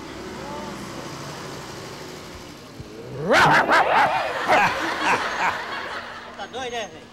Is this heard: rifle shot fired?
no